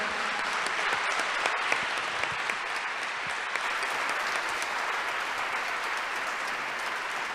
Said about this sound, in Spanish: damos un fuerte aplauso al doctor Walter Mignolo